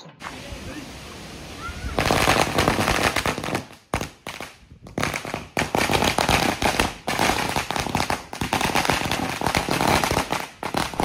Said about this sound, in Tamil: ஸோ சேர்ந்து வெடி போட போறோம்.